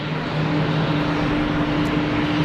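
An EasyJet airliner at Geneva Airport roars steadily as it takes off, a broad, even engine rumble with a faint steady tone, no one talking.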